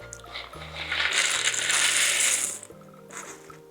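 Pretzels tipped into a pan for Christmas crack, a dense rattling clatter of hard pieces tumbling in over a couple of seconds, then a shorter second spill, close and moderately loud over a low hum.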